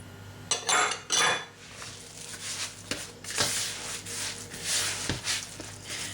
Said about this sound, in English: you're going to add half your breadcrumbs, mix it in